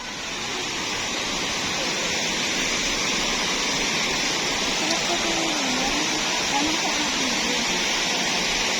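Waterfall roaring as a steady, dense rush of water, loud and unbroken throughout, with faint voices mixed into the constant noise.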